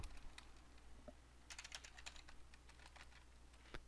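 Rapid typing on a computer keyboard, a close run of crisp key clicks with a burst of quick taps in the middle and a final single tap, quiet and with no speech.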